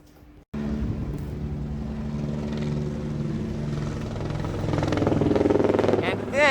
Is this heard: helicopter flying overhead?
yes